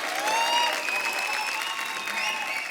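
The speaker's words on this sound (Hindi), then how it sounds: "एक बार जोरदार तालियां हो जाए।" An audience at a star-studded evening show breaks into enthusiastic applause, a dense, steady wash of clapping with a few cheers, close and continuous throughout.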